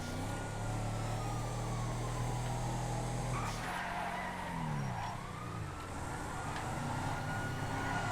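Several car engines drone and rev continuously in the GTA FiveM driving game, with a pitch sweep and a brief skid-like whine midway, loud and steady throughout without talk.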